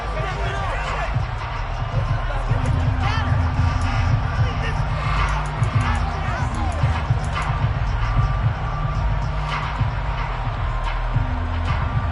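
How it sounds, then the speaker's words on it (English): A football stadium crowd shouts and roars continuously while a replay is shown, a dense wall of voices with bursts of cheering, heard alongside close commentary talk. "Plenty of shouts from this crowd as they watch the replay."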